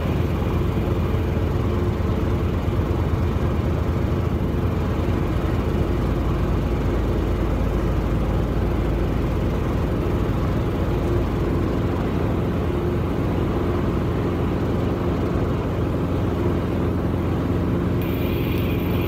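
A helicopter hover-taxis across grass and hard surface toward an airfield apron, its engine and rotor making a steady, loud, unbroken roar that fills the whole stretch at close range.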